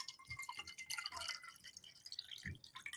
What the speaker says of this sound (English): I'm going to literally pour a glass of water